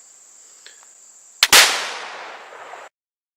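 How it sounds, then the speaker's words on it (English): A flintlock .50 rifle fires a light fouling load: a faint click and flash-pan hiss, then one loud sharp report with a long decaying tail, alone without talk. "let's go ahead and try to shoot this fouling load and see what happens"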